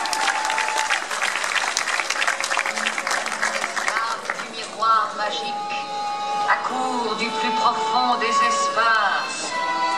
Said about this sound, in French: La méchante reine, on l'applaudit très très fort